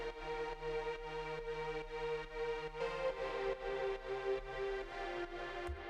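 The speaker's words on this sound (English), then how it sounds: "So it's a pad, and there's 2 layers to the pad." A sustained synth pad holds steady chords, with a thick lower layer and brighter upper layer, shifting harmony midway before ending abruptly.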